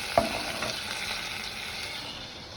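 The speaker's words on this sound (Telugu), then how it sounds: "ఒక్క నిమిషం వేగనివ్వాలి." Ginger and green chili paste with curry leaves fries in a pan for a brinjal curry, giving a steady close sizzle and bubbling hiss throughout, with a brief stirring clack near the start.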